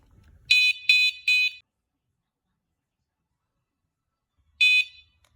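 A smoke alarm gives three quick shrill beeps in a row, then silence, then one more beep; loud and close in a quiet room.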